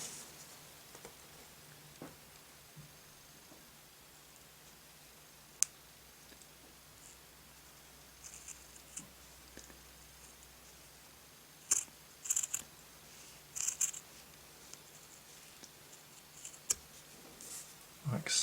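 Scissors snip across a rubber glove finger during a Six Million Dollar Man figure restoration, faint close clicks scattered sparsely, then a cluster of quick cuts toward the end.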